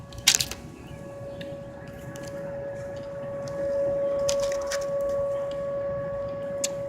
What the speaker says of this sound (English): Just after 2 hours of being here, sirens go off.